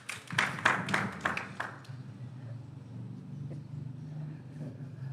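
A small audience briefly claps to welcome a presenter at a mental health sensitization session, with a short, quiet scatter of claps that fades within two seconds into a low engine-like hum.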